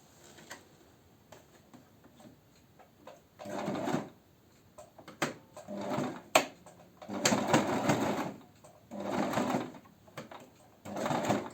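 A sewing machine closing a seam on fabric, stitching in several loud rattling bursts of a second or two each, separated by quieter pauses with small clicks and handling noises, close by.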